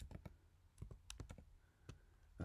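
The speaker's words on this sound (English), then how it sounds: "I'll just type in roots" Typing on a computer keyboard while entering code in Julia, a quick string of distinct close key clicks in an uneven rhythm, quiet and without talk.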